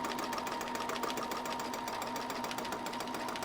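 A sewing machine stitching free motion quilting on a French press cozy, a fast, even needle chatter with a steady motor hum, close and continuous.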